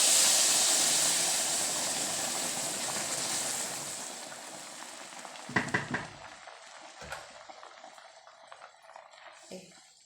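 Water poured into a hot pot of vermicelli, made the old-fashioned way of wedding cooks, sets off a loud, rushing hiss that fades after a few seconds, followed by scattered metallic clanks of the pot and utensils.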